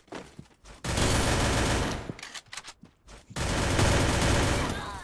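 Rapid bursts of automatic gunfire from a shooting video game crackle loudly in two long volleys, separated by shorter scattered shots and brief pauses.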